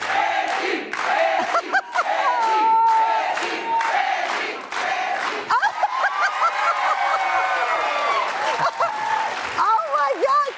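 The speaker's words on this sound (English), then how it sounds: "You make a lot of noise to be a nice small crowd." A small studio audience at a talk show with baseball great Reggie Jackson cheers, whoops and claps, a loud, continuous crowd roar with shouts rising and falling, while a host's voice speaks over it.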